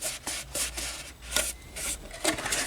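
A sticker is rubbed down onto a Tamiya DT03 RC car body in a rapid series of close, scratchy back-and-forth rubbing strokes, with no talk.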